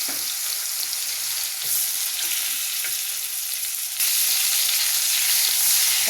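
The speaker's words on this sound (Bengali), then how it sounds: "একই তেলে আলুগুলো নিয়ে নেবো ভেজে।" Potatoes fry in hot oil with a continuous, dense sizzle throughout, growing slightly louder partway through, with no talking.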